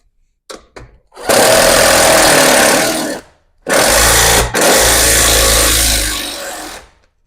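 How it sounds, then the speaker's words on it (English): A power tool drives a lag bolt into a garage door spring bracket on a Wayne Dalton Torquemaster setup, giving two loud, close whirring bursts of a few seconds each with a brief pause between them and a few clicks beforehand. "And we're just going to put this lag bolt back in."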